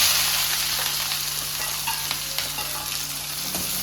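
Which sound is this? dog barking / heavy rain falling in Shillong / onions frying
onions frying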